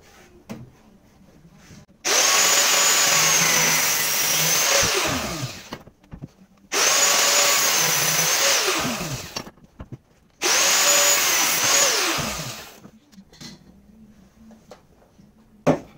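A power tool cutting metal stock for a go-kart's double wishbone suspension mounts, sounding in three loud, sustained bursts of about three seconds each, separated by brief near-silent pauses, close by and alone without talk.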